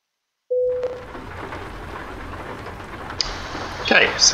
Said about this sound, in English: So it started raining after my sleep.